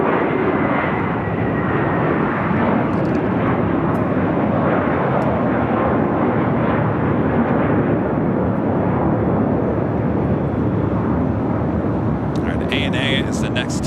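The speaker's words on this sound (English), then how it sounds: "Alpha 5 Heavy, wind 230 at Niner, RNAV Doctor, runway 25 right, cleared for takeoff." A jet airliner takes off from runway 25 right at LAX, its loud, sustained engine roar filling the air without a break.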